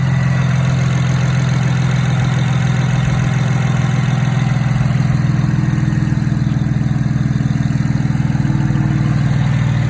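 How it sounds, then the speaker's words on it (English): A 6-speed BMW 335xi engine idles steadily, a smooth, even, constant low hum and rumble held at the same level throughout, close by with no talking. "Engine's purring."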